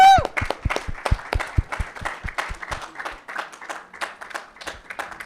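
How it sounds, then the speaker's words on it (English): An audience at the LIBF Expo launch in Mumbai claps, starting with a quick run of sharp, distinct handclaps that swell into fuller, denser applause before tapering off. "Let's give them a round of applause."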